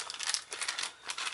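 Plastic packaging of a Cross Fight B-Daman CB-37 Twin Magazine tune-up gear crinkles and rustles as it is opened by hand, close, quiet and continuous.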